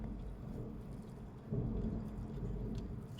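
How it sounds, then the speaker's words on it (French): Thunder from a thunderstorm with an arcus cloud rolls as a steady, muffled low rumble that swells midway, with faint rain hiss beneath and no voices. "Super orage."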